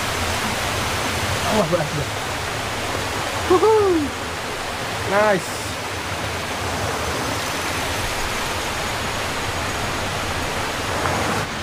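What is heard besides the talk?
river flowing on a hiking trail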